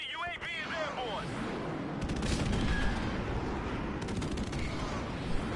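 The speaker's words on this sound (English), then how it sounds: "Friendly airstrike on the way!" An airstrike in a shooter video game brings rapid gunfire and rumbling explosions that swell in the middle of the clip, with a brief voice heard at the start.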